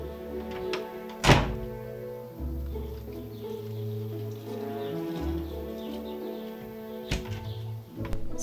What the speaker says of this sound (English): I suddenly heard a knock on the door